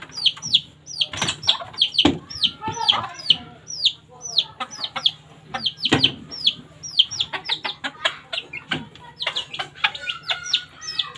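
Newly hatched chicks peep and chirp continuously in a rooftop coop at a home in the Agusan Marsh, with rapid, high, close calls and occasional louder clucks and thumps.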